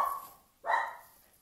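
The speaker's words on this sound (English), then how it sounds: "the dog is having a bark" A loud female dog gives a single sharp bark at close range, preceded by a fading higher-pitched yelp, in a quiet indoor room.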